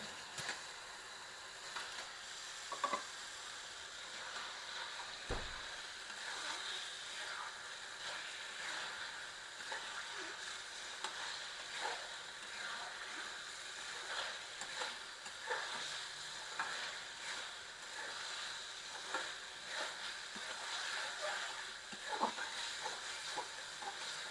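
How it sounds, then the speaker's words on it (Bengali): Eggs cooking in fried spiced masala, a desi egg korma in the pan, make a soft continuous sizzle with scattered spatula clicks and scrapes while being stirred. "এখন আমি মশলা কষানো হয়ে গেছে আমি ডিমগুলো দিয়ে দেবো"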